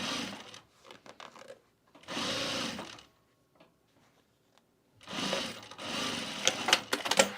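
Sewing machine stitching fabric for a travel bag, three loud close bursts of rapid needle whirring separated by quiet pauses with faint handling sounds.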